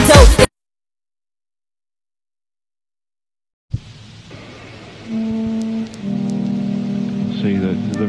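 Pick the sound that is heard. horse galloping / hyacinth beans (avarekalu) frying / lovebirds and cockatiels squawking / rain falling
rain falling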